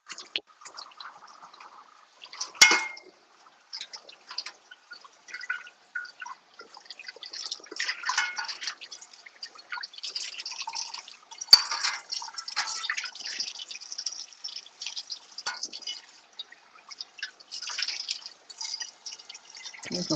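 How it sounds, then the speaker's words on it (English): Water is poured into a cooking pot in a home kitchen, with faint, scattered splashing and dripping that comes and goes over roughly twenty seconds, with no voices. "I'm just going to put some water in here."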